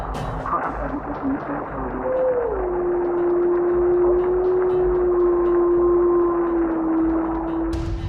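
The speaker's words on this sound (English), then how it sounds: "A lone wolf's howl pierces through their conversation" A lone wolf howls outside a tent in the woods of Hinton, Canada, at nightfall; one long, drawn-out, wavering tone rises, then holds and slowly falls over several seconds above a low ambient rumble.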